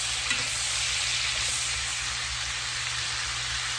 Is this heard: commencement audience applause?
no